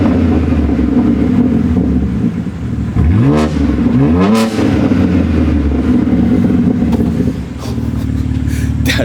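A Toyota GR Supra and a BMW G80 M3 heard from outside, engines idling loudly then revved twice in quick succession, each rev a sharp rising-and-falling roar, before settling back to a throaty idle.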